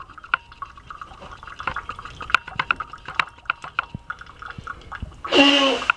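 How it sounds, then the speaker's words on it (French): A home coffee machine dispenses coffee in irregular drips and trickles into a cup, close and clattery, ending with a louder gush of liquid splashing. "Je suis capable de faire du café."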